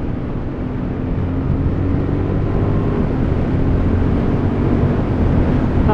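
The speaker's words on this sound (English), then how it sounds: "And then really wind it open and quick shift." A 2023 Honda CB750 Hornet motorcycle revs hard under full throttle with a quick shift, a steady loud engine roar heavily mixed with wind rush across the whole stretch, no talk.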